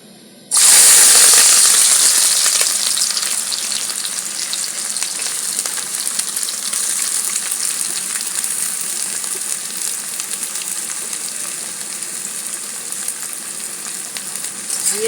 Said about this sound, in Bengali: তেলটা গরম হয়ে গেছে বন্ধুরা কড়াইয়ের চারিদিকে একটু লাগিয়ে দিচ্ছি দিয়ে এইবারে এর মধ্যেই পেঁয়াজগুলোকে দিচ্ছি